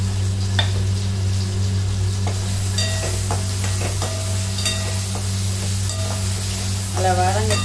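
Onions and tomatoes, salted, sauté in sesame oil in a pan with a steady close sizzle, while a spoon scrapes and clinks against the metal at irregular intervals.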